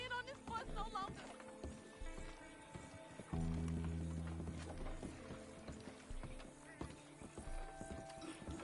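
Horse hooves clip-clopping at a steady walking rhythm in the video game Red Dead Redemption II, moderately close, running under character dialogue with music in the background.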